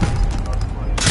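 Gunfire in a squad-based shooter video game, a dense burst of rapid shots with low booms mixed together, and a sharp louder burst at the end.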